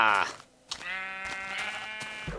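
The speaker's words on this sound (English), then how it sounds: "And here's another white sheep that's about to turn red." Sheep in the Minecraft video game bleat in drawn-out, wavering cries that come close and clear, with someone talking over them.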